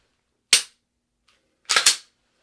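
Pistol shots during a shooting skills drill: one sharp crack, a pause, then a quick pair of close, loud reports in rapid succession.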